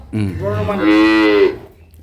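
A single loud, drawn-out moo from a cow close by, rising and then trailing off, with no talking.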